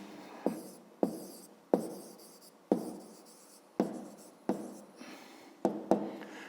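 A pen writing on paper while working a school math exercise: about nine quick, close strokes, each a sharp scratch that trails off, spaced irregularly with short pauses, quiet and with no talking.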